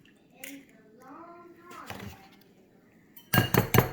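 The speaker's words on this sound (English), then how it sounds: "we're gonna crack 2 eggs" Two eggs cracked against a bowl while making French toast, giving a few sharp, close clinks and taps of shell against the dish after some quiet kitchen sounds.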